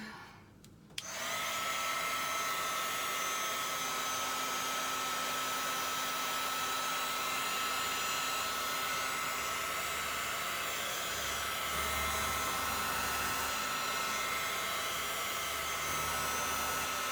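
A hair dryer blows steadily on chalk paste, switching on after a second and then holding a constant loud whooshing hum close by for the rest of the clip, with no talk.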